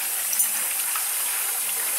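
Water rushes steadily through the tankless coil feeder of a home boiler, a constant close hiss with no break and no voices.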